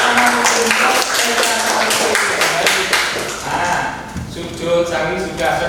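Classroom applause from students, a loud burst of dense clapping that carries on for several seconds and tapers slightly toward the end, with voices mixed in.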